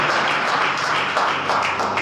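A congregation at a Friday church service applauds in thanks to the Lord, a steady, dense wash of clapping from many hands, fairly loud and unbroken for the whole stretch.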